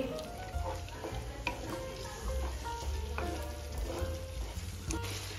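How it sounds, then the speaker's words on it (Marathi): Paneer masala sizzling in a pan as it is stirred and sautéed, a continuous close crackle with repeated soft scrapes and taps of the spoon throughout. "आणि मसाला छान परतून घेणार आहे."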